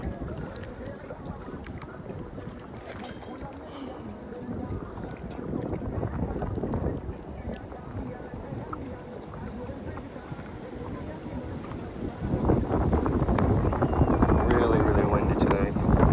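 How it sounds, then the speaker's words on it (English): Strong wind buffets the microphone in a continuous low roar with gusts that grow louder toward the end, over faint lapping water at Professor's Lake in Brampton. "I don't know about today, but it is quite windy"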